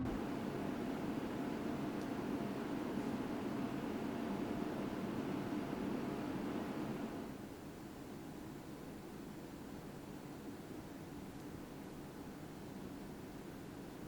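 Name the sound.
PC cooling fans running at set RPM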